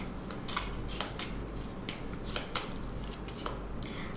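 Tarot cards drawn and laid down during a weekly Libra reading: soft, crisp card snaps and flicks repeating at an uneven pace over a quiet room hiss, with no talking.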